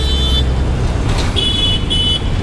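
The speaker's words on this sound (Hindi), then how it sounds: "बस ट्रैफिक जाम है थोड़ा बहुत" Jammed road traffic in India, with engines idling and car horns honking in short blasts, one early toot and a couple of longer honks later, loud and close.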